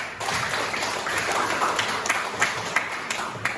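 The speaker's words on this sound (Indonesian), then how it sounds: "Nah, tepuk tangan." Students clap in a classroom, a lively patter of many hands, close and uneven, with a few louder individual claps standing out near the end.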